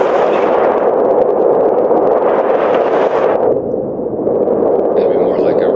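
Low-pass filtered synthesizer noise roaring like a rocket taking off, a loud steady rushing wash that drops in brightness partway through, with a voice speaking faintly under it.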